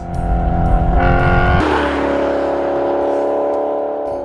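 Maserati GT engine in sport mode revs loudly through its exhaust on closed winding roads, a strong rising note that drops sharply, then holds a steady, slightly fading drone.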